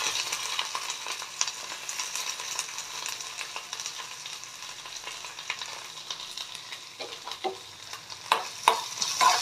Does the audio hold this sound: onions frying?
yes